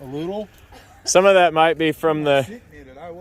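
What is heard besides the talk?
No everyday noise stands out behind the speech.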